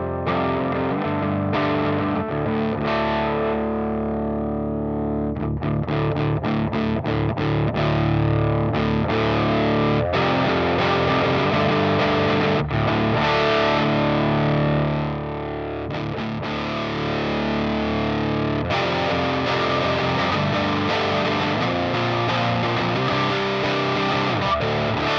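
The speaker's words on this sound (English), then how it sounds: "we'll sweep through the range of gain this pedal has available" Distorted electric guitar through a Jeds Peds Distortion Plus pedal plays sustained chords and riffs, the crunch growing thicker and more saturated as the gain rises; no talking.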